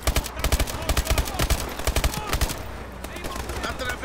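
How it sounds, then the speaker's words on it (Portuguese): Rapid bursts of automatic gunfire from a Bulldog weapon in Call of Duty: Advanced Warfare campaign combat on a road, loud repeated shots in clusters that thin out toward the end. "Tem alguém atirando, mano."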